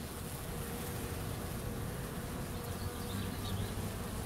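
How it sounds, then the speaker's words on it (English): A steady, dense buzz of honey bees swarms close by while a bee package is hived into a wooden hive box. The hum is continuous and fairly loud throughout, with no voices. "I'm just going to gently, slowly work this down so the bees get out from underneath it"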